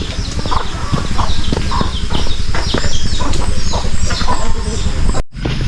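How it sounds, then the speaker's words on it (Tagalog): Free-range chickens, including breeding roosters, cluck and call across a farm yard, a dense, busy flock close by with occasional wing flaps and a brief break near the end. "Yan, mga lalaking manok, yan yung pampalahi."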